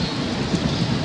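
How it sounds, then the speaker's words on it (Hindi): Steady rain falling outside a window grille on a rainy day, a dense, even hiss of drops that stays constant throughout with no voices. "बारिश बहुत प्यारी हो रही है।"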